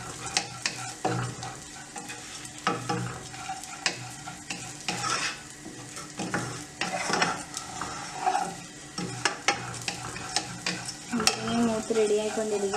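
Dry fruits and raisins roasting in a pan, soft sizzling under repeated stirring and scraping of a utensil against the metal, with light clinks throughout.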